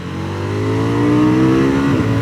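A 2024 KTM 990 Duke motorcycle accelerates uphill in second gear at about a third throttle, its engine note rising steadily in pitch, loud and close with a buzzing, revving drone.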